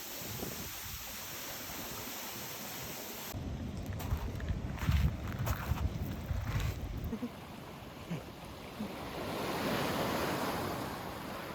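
Ocean waves wash onto a coastal beach in a steady surf roar, with a louder surge around the middle and wind buffeting the microphone. No one speaks.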